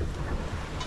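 Steep, confused sea waves and 20-knot wind gusting to 25 around a sailboat in the Irish Sea, a loud continuous wash of surf with heavy wind buffeting the microphone.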